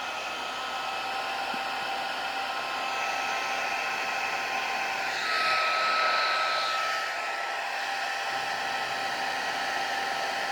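A craft store heat tool blows steadily as it heats shrink wrap, a constant whirring hum that swells briefly louder midway, with no voices.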